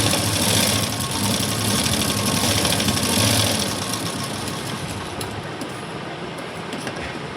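A sewing machine stitching a quarter-inch tuck on a blouse whirs in a fast, even mechanical buzz close by, then slows and fades toward the end.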